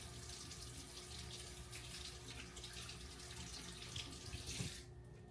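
Tap water running steadily into a sink while a steak is rinsed, a continuous close hiss and splash that stops abruptly near the end, with no talking.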